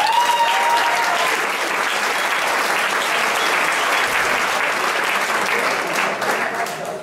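A big crowd at a live concert in Berlin claps in loud, sustained applause, a thick wash of hands that stays strong throughout and only begins to thin toward the end.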